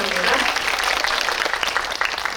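An audience in a cinema auditorium at a film Q&A screening gives a big round of applause, dense and steady clapping throughout, with some talk mixed in.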